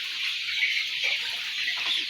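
Brown cock chickens cluck softly in a farm shed, a brief run of close, low-level clucks with a steady hiss of background noise behind them.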